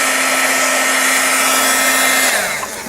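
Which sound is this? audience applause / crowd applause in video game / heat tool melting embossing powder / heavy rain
heat tool melting embossing powder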